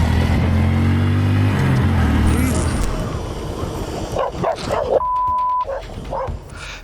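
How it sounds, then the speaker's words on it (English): Street dogs bark and yip in short bursts at a passing motorcycle, its loud engine drone fading, with people's voices mixed in. "This biker was met by a gang of street dogs."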